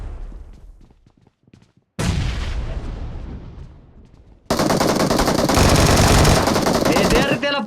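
Gunfire in the PUBG battle royale video game: sparse distant pops at first, then a loud sustained burst of rapid automatic fire, a pause, and another long, intense volley close by.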